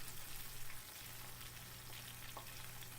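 Steady crackling sizzle of frozen okra frying in hot oil, constant and close, with a low hum underneath and no voices.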